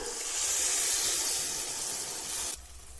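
Tomato puree hitting hot oil with chili powder in a pan for a South Indian side dish, giving a loud steady hiss and sizzle that cuts off abruptly near the end, leaving a quieter background.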